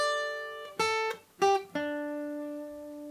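Electric guitar playing an opening lead line, a few plucked notes with slides, ending on a long sustained low note, clean and close with no talking.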